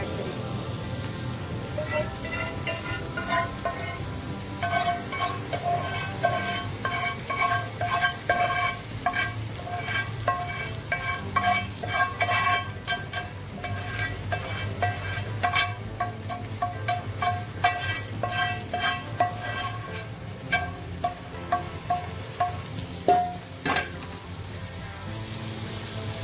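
Chicken, vegetables and sauce fry together with a soft continuous sizzle, while a spoon stirs and scrapes the pan in repeated clinks and taps over a long stretch.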